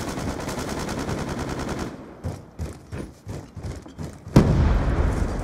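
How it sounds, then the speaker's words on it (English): Gunfire and a grenade blast in the video game Black Ops 2: a dense rattle of shots gives way to scattered bursts, then one sudden heavy boom near the end, loud and close. "Somebody tried to grenade me."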